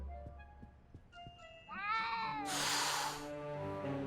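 A cat meows in the Back to the Future Part II video game, a drawn-out, rising cry that swells loud over soft game tones and sharp clicks, heard close with no talking.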